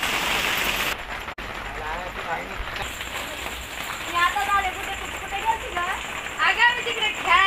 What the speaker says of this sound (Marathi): बघा ना कसा पाऊस पडायलाय.